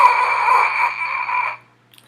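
Brass mouthpiece buzzed with the air held back: a thin, pinched, nasal buzz held for about a second and a half, then stopping abruptly, heard alone.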